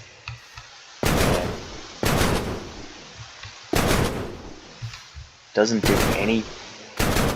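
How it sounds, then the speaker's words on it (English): Full-auto rifle fire from a Minecraft Create: Love And War mod weapon, heard as several separate loud bursts spread through the clip, with someone talking quietly in the gaps. "uses rifle rounds. It's kind of loud. It's full auto."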